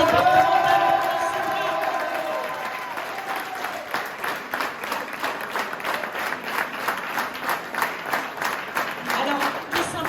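A crowd applauds and cheers at a 2021 departmental election results gathering in Aulnay-sous-Bois, greeting a newly elected departmental councillor; steady clapping swells into rhythmic, pulsing applause with occasional whoops, filling the room throughout.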